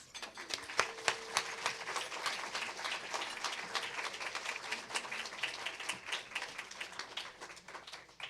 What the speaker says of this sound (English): So please give a warm round of applause and a great big smile to Colin Jones.